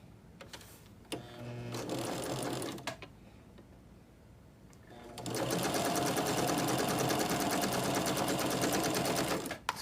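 A sewing machine stitches quilt pieces in two runs, a short burst of steady mechanical whirring, a brief pause, then a longer, louder continuous run close by.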